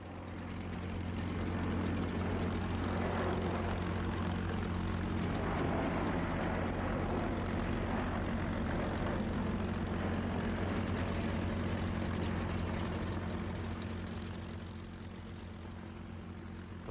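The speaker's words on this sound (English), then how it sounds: "So here is the Mercury formation, 4 of these historic engines flying together." Four vintage aircraft with historic Mercury engines fly past in formation, a steady droning propeller roar that swells over the first seconds, holds loud and full, then eases slightly toward the end.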